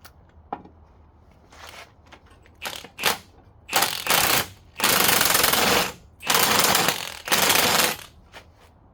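Socket wrench working a part loose from a Subaru strut in a garage, with several loud bursts of ratcheting clatter separated by gaps, getting longer toward the end.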